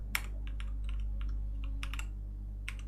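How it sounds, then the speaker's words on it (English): A computer keyboard is typed on in quick irregular clicks and keystrokes, close by over a steady low hum, with no talking. "I'm gonna try to use my keyboard. Listen."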